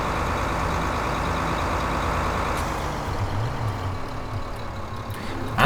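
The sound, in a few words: tractor pulling heavy trailer in video game Farming Simulator 15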